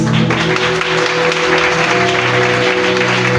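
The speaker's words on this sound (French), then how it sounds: "je voudrais qu'on acclame aussi son adjointe, l'évangéliste Béatrice" An audience at a church service breaks into applause for evangelist Béatrice, a steady, dense clapping that fills the room for the full few seconds with a faint tonal hum beneath.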